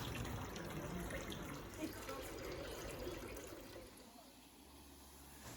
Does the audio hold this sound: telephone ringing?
no